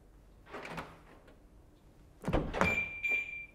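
Door locks on a BMW Alpina B7 actuate with a soft mechanical clunk, then a louder thunk and rattle about two seconds later, followed by a short electronic tone and quiet cabin ambience.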